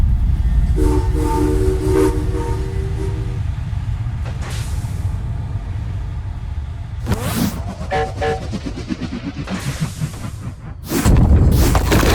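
In the video game Epic Mickey 2, a train rumbles loudly and continuously, with several whistle blasts sounding over the heavy rolling clatter and a sudden loud burst near the end.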